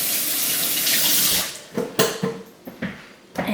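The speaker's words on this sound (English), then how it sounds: "Let me rinse my hands real quick from that." Tap water runs loudly into a sink as hands are rinsed beneath it, then the flow stops and a few brief splashes and clunks follow, with no one speaking.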